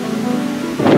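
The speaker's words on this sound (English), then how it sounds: "Lightning flashes, thunder crashing" Thunder rumbles during a storm, a steady low roar that swells into a louder crash near the end, with no voices.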